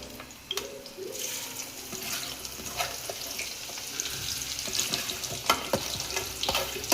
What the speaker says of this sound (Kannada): ಈರುಳ್ಳಿನ ಎಣ್ಣೆಗೆ ಹಾಕೋಣ.